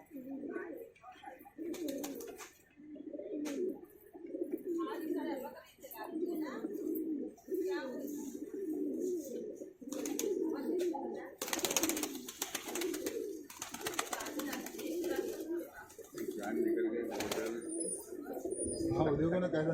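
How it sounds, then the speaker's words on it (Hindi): Racing pigeons coo repeatedly in soft, throaty bursts close by at a pigeon competition, with people talking over them and a brief rustling burst partway through. "बाकी ये कबूतर देख लो आप।"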